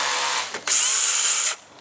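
A power drill with a 3.5mm bit marks hole positions during a cold air induction install on a Ford XR6 Turbo, a loud close whine running steadily, briefly easing, then surging higher before cutting off.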